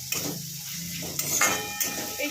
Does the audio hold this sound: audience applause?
no